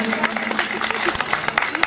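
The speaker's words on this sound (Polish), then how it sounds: "Oklaski, wielkie brawa dla nich." A short burst of audience clapping and applause at an outdoor summer concert in Mikołów, dense and continuous, with some voices mixed in.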